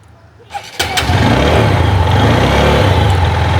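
A second-hand motorbike engine starts after a brief click and settles into a loud, close, steady idle with a low throbbing rhythm.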